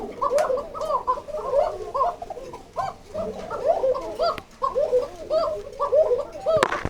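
Lahori pigeons on a farm coo steadily in overlapping, throaty bursts, several birds calling close by in a continuous rolling chorus with brief pauses.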